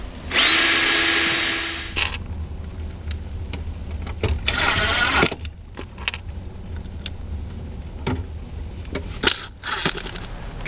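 Power drill bores ventilation holes into a fiberglass cabinet aboard a catamaran, running in two loud sustained bursts with a shorter third burst, separated by quieter clattering handling noise.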